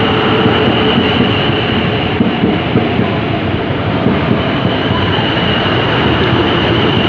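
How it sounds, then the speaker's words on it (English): Loud, continuous rumble and roar of a train approaching on the tracks at Clapham Junction, a broad steady wash of rail noise with no talk. "I hear noises from the tracks, so that means the train is approaching."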